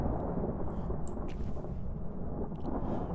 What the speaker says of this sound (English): We are in a storm